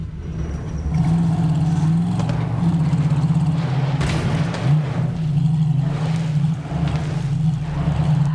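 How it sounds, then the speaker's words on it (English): A shiny car driven in the video game Borderlands 3, a loud, steady engine roar holding a low hum with small revs and wavers, near and continuous for several seconds. "That is one shiny car. Hop on in and drive it to the festival gate."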